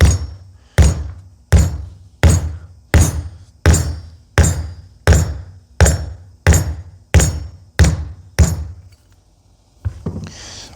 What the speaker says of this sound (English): I got a ball peen hammer. This is the smallest one I have with a round surface. I'm just going to tap along that line.